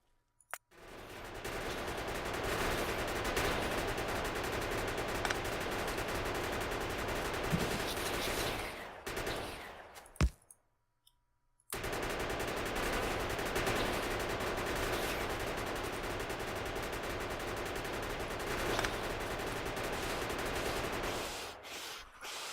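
Continuous rapid automatic gunfire in the Factorio game, a dense unbroken rattle that stops abruptly for about a second midway before resuming at the same steady level.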